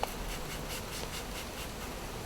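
Honeybees being released into a hive at a bee farm give off a faint continuous buzz, a soft low drone heard close with a light rustle and no talk.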